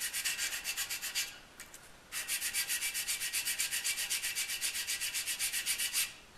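Steady back-and-forth rubbing as a guitar nut is sanded on 220-grit sandpaper laid flat on a bandsaw table, a rhythmic scratchy stroke pattern with one short pause, close and fairly quiet.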